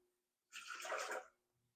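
One cup of water is poured for an Orange Julius drink, a short, bright splash of about a second into a container, close and alone in a quiet kitchen.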